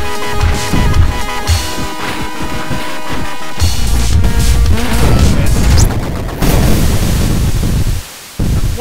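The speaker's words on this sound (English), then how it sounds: "That was a nice explosion." A loud, dense burst of explosion and crash noise from the aerial combat video game Luftrausers, with booming, crackling debris filling the whole stretch before a brief drop near the end.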